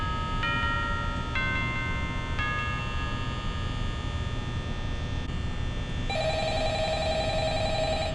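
A telephone rings with a repeating electronic tone over a steady low hum, the ringing pattern changing partway through and continuing loudly without any talk.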